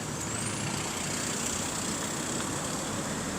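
Constant road traffic noise from a busy street near sewer construction work, with trucks and cars rumbling past and a brief hiss like an air brake, all steady and moderately distant.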